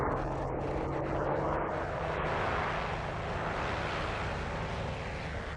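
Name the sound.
American Dauntless dive bombers diving, aircraft engines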